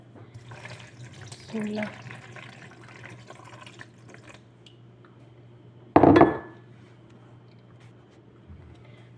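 Lukewarm water poured from a glass into a bowl for dough makes a short, loud splash partway through, after a brief spoken word amid quiet kitchen clinks.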